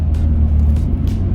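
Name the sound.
Nissan Skyline GT-R R34 V-Spec II car driving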